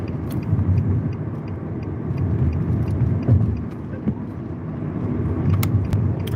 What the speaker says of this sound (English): Why is this car trying to speed out here?